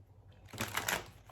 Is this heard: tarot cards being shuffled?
yes